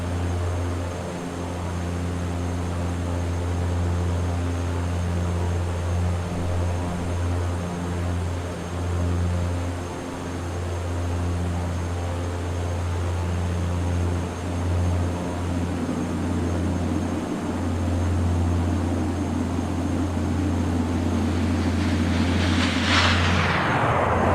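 A Viking Air CL-415 water bomber in flight, heard from inside as a loud, steady propeller and engine drone with a deep hum that holds for the whole stretch and brightens slightly near the end.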